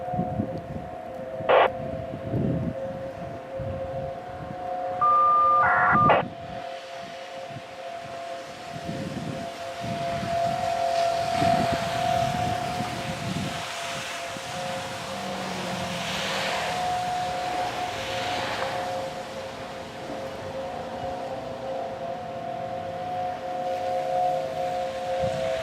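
A Federal Signal 508-128 civil defense siren in Sheboygan, Wisconsin, malfunctioning during a test: a faint, distant steady tone wavers and drones alone, broken by a few brief beeps and clicks.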